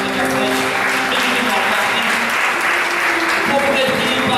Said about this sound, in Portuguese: Você pode aplaudir ao Senhor por essas vidas que estão vindo aqui à frente.